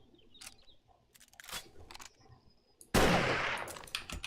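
Gunfire from the video game 7 Days to Die: scattered sharp shots early on, then a sudden loud, sustained burst of rapid fire that fades slightly toward the end.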